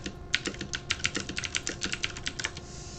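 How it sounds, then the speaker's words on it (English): Someone types gently on a computer keyboard, a quick irregular patter of soft key clicks, close and fairly quiet with no voices. "I was typing more gently."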